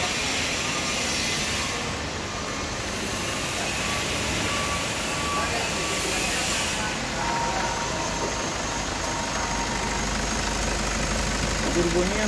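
A Toyota 2GD turbo diesel engine runs at a steady, unbroken drone for the whole stretch, with a constant mechanical hum and faint voices mixed in the background.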